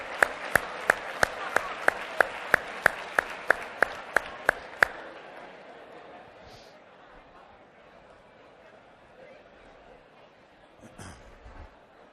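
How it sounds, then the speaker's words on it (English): Short burst of audience clapping in a training session room, about five seconds of sharp rhythmic claps that stop abruptly, leaving quiet room tone with a faint voice later. "Big round of applause."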